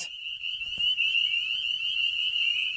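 A dense, continuous chorus of high-pitched frog peeps and trills rings out steadily from a cattail marsh in early spring, loud and close, with faint low rustling underneath.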